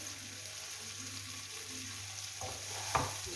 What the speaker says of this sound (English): As you can see, my oil, my pan is frying lovely